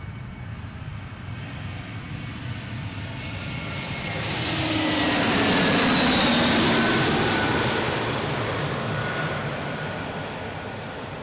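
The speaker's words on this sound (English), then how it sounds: "JetBlue coming in from Seattle." A JetBlue Airbus A321 jet arriving from Seattle comes in to land at Boston Logan, its engine roar and high whine building steadily from a distance, peaking loud overhead, then fading away.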